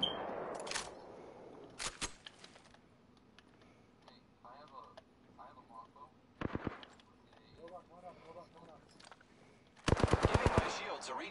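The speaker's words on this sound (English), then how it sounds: "The enemies are shooting at me." Enemy machine gun fire in a video game, heard as several short bursts of rapid shots with a long, loud rattling volley near the end, separated by quieter game sounds.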